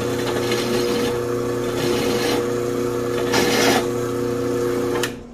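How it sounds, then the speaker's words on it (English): Someone chamfers the edge of a metal step built for a Farmall Super A tractor, producing repeated rasping strokes in short bursts, close and fairly loud, with one harsher scrape near the end. "So I'm gonna chamfer this side."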